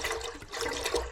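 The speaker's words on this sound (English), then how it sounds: "Pour your milk in." Whole milk pours steadily into an Instant Pot, a continuous close splashing and gurgling stream with no talking.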